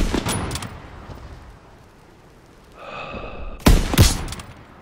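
Gunfire from Call of Duty: WWII in a Battle of the Bulge mission: a short burst of shots opens, a thin whine hangs briefly in the quiet middle, then two loud, close, sharp reports crack near the end.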